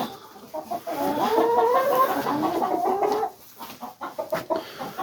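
Chickens cluck steadily in a farm pen during morning chores, a close, busy run of clucking that eases off into scattered, quieter calls near the end.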